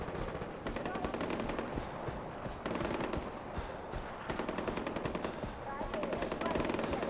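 Rapid machine-gun bursts and scattered gunshots from a Far Cry firefight rattle on continuously and loudly, with a voice talking over the shooting.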